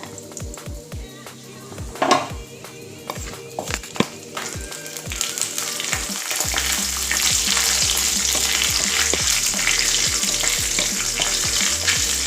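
Whole cloves, cardamom pods and cinnamon sticks sizzle and crackle steadily in hot oil for a mixed vegetable gravy, with sharp stirring clicks and taps from a spoon in the pan, the frying growing louder and denser midway.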